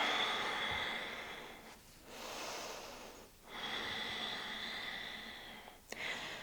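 Slow deep yoga breathing, close and soft: long airy inhales and exhales alternating in a steady rhythm with brief pauses between them.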